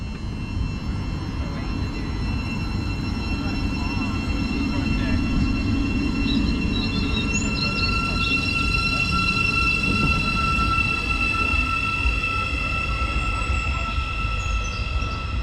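A train pulls away from a platform on the East Coast Main Line, a steady rumble with high whining tones rising over it, close and continuous, while someone talks over it.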